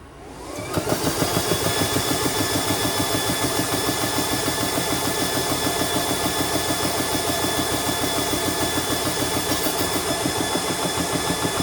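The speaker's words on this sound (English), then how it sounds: "it's going to get noisy for a minute, but only a minute. Just takes a second to air up." An air compressor charges an AEA Defender air cartridge, a loud, close, steady mechanical chugging with a fast regular pulse that starts abruptly and runs continuously with no talk.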